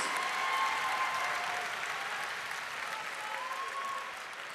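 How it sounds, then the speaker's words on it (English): Sustained audience applause in the arena after a mixed martial arts hybrid-rules bout, a steady dense wash of many hands clapping at moderate, distant level, easing slightly toward the end. "A round of applause for these 2 warriors."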